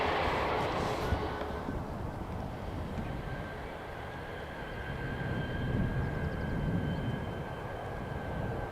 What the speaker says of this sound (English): And here is the Embraer coming in from London City.